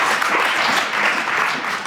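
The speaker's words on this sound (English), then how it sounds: "So I think they all deserve a round of applause just for spamming that." An audience at a mayoral hustings on culture and tourism in York and North Yorkshire applauds the candidates, a dense, steady wash of clapping from many hands that fills the whole short moment without a break.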